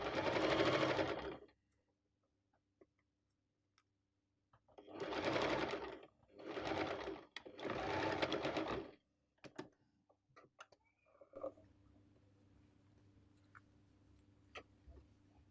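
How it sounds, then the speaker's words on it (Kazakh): A sewing machine runs in four short stitching bursts, one long run then three quick ones close together, joining patchwork pieces of a quilt seam; the machine is close and clear, followed by faint handling clicks and a low background hum. "Замок басталған жерге дейін, мына тігіске дейін тігіп шығамыз біріктіріп."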